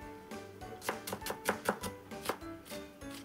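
A kitchen knife minces ingredients on a cutting board in quick, irregular bursts of close, crisp taps, loudest in a rapid flurry midway, with no talking.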